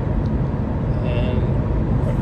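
Subaru Crosstrek cruising at highway speed around 75 mph, with steady broadband road and tire rumble plus wind noise filling the cabin continuously, close and fairly loud, no speech.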